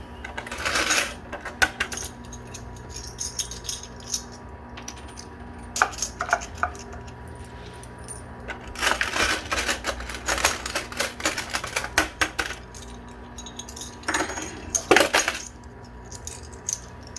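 Coins clatter and drop into the pit of a coin pusher machine, several bursts of metallic rattling and clinking in an arcade setting, moderately loud, with no talking.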